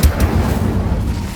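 An Incendio fire spell cast in Hogwarts Legacy: a short fiery burst at the start that settles into a deep, rumbling roar, loud and continuous with no voices.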